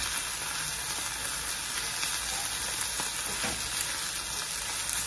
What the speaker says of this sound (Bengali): এখন রসুনের সঙ্গে শাকের সঙ্গে একটু দু চার মিনিট এরকম ভালো মতো নেড়ে চেড়ে